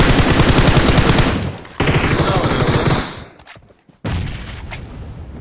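Rapid automatic gunfire from a shooter game, PUBG Mobile, loud and dense bursts of machine-gun fire broken by a couple of short pauses, then resuming near and heavy.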